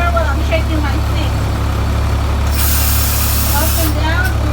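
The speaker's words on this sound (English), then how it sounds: "I will allow the engine to build up the air" Loud truck engine idling with a deep constant rumble while air brake pressure builds, with sharp hissing air bursts partway through and again near the end.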